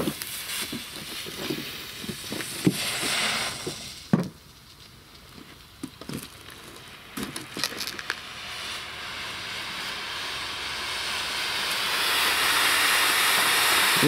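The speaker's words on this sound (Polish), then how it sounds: "Na pierwszy ogień idzie granat niebieski" A blue JFS-2 smoke grenade gives off a rough hiss that thins out midway and then swells back to a steady, loud rush, with a few sharp crackles and pops early on.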